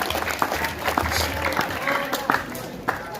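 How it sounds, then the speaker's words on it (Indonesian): An audience of students at an Isra Miraj lecture at a madrasah in Malinau gives a short burst of scattered, close clapping, with crowd voices mixed in. "kasih tepuk tangan semuanya."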